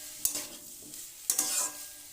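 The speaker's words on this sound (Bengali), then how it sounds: "এইভাবে কষিয়ে নেবো ভালো করে।" A spatula scrapes and stirs bitter gourd chorchori in a frying pan, two distinct stirring strokes followed by a soft sizzle, close and moderately quiet.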